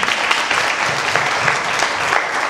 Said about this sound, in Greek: Αξίζουν ένα χειροκρότημα γι' αυτό.